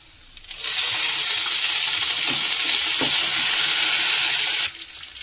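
Curry leaves hit hot oil with a sudden loud burst of sizzling that holds steady for several seconds before cutting off, a close, bright hiss with faint crackles.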